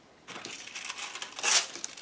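Thin transfer foil crinkles and rustles close up for about two seconds while it is handled and laid down on a craft tag, with a louder crumpling burst near the end.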